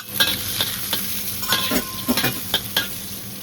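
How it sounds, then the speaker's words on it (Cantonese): Garlic sizzling and crackling in a hot wok, with repeated scraping strokes of a utensil stirring it, close and steady. "咁落啲蒜頭嚟爆一爆啲"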